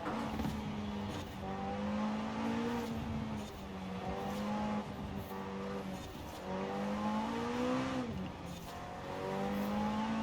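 An Automobili Turismo e Sport GT drives in Forza Horizon 4, its engine holding a steady droning tone that rises and dips through gear changes and throttle lifts, continuous and moderately loud with no talk.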